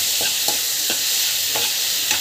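Onions or vegetables sautéing in a hot pan, a steady sizzle broken by repeated scraping stirs of a spoon at a loose, uneven rhythm, close and fairly loud with no voices.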